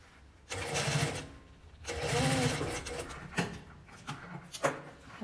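A sewing machine stitches slowly through thick layers of fabric and batting, running in two sustained bursts of steady mechanical whirring followed by shorter start-stop runs, close and fairly loud with no talk.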